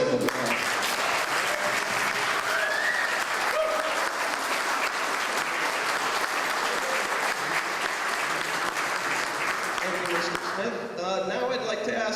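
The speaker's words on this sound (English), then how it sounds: "So if we could give Bill a big round of applause." Sustained loud applause from a crowd at a ribbon cutting ceremony for a new farm barn pavilion, steady clapping throughout with a few cheers and voices mixed in near the end.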